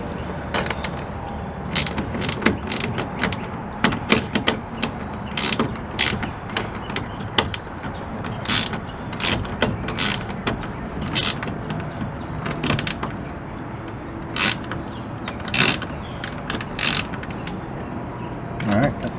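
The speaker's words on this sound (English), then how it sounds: "All right, got 2 bolts snugged up." Lug bolts on a camper trailer wheel are tightened by hand after a tire blowout, making repeated ratcheting clicks and metallic clanks in short bursts, with someone talking now and then.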